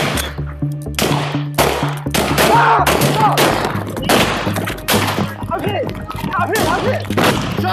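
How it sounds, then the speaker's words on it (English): Repeated loud gunshots crack in bursts during a police shootout, some in quick clusters, close and harsh, with shouting voices between the shots. "Shots fired! Police action shooting!"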